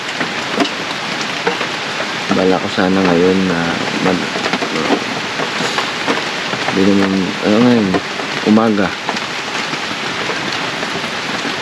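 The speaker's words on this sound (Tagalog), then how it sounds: "umuulan pa rin." Steady rain falls on a beach island at Kalanggaman during an overnight camping trip, a constant loud hiss throughout, while someone talks over it in bursts.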